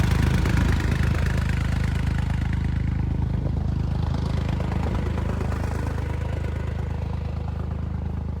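A Massey Ferguson tractor idles nearby on a village cornfield during silage-corn irrigation, a steady low rumbling drone that holds constant throughout with no speech.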